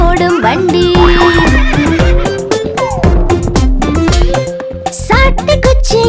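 Horse neighing beside a horse-drawn cart in a Tamil children's rhyme, the whinny rising over a loud music backing with sung vocals, with faint rhythmic hoof clip-clops mixed in.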